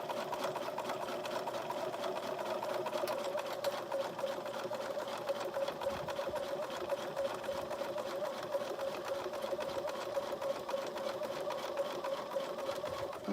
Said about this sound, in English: Let's stitch, do a little back stitch.